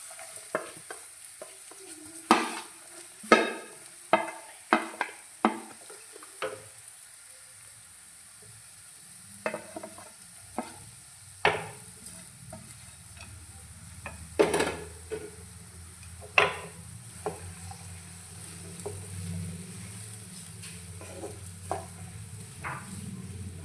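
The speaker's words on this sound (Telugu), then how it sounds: "ఆయిల్ హీట్ అయింది కదా, ఆనియన్స్ అయితే వేసుకోవాలి." Onions frying in hot oil in a pan for a boondi curry, with a continuous sizzle and a long series of knocks and scrapes from a stirring spoon, some loud and close, others softer.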